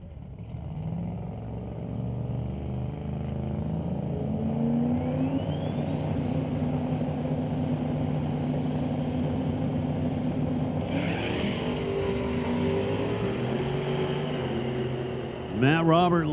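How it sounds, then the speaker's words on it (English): A drag racing car does a tire burnout at a qualifying session, its engine holding a sustained, rising roar at a moderate distance with a sharper burst at the very end, under an announcer's commentary. "Matt Robert lights up the tires."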